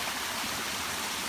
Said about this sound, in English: to really get the water flowing in that section. Make it nice and loud and beautiful